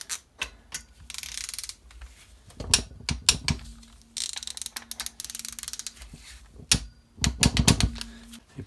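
Ratchet tightening bolts to torque on a Ducati 996 motorcycle: bursts of quick sharp clicking strokes with pauses between, close and loud, with occasional metallic knocks.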